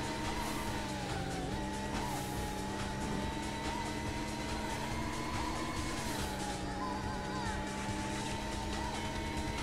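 Car racing in the SCUD Race arcade game emulated on a Raspberry Pi 5, with constant loud engine whine rising and falling through gear changes and occasional tire squeals, no talk.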